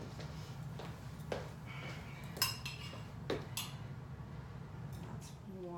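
A spoon scoops chopped celery with soft, scattered clinks and scrapes against a dish, quiet and close, spaced irregularly over a low hum.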